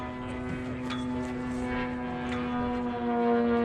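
An aerobatic airplane flies a trim pass, its propeller engine droning steadily with a sustained tonal hum, held at an even, moderate level across the whole stretch.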